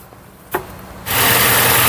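A 2008 Ford Ranger 2.3 gasoline engine starts with a brief click and thump, then settles into a loud, steady, even idle close to the microphone.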